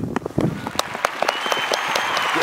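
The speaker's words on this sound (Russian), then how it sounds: "Аплодисменты." Applause from an audience at a shooting event, a steady patter of many clapping hands that rises and holds at moderate loudness through the clip with no clear talk.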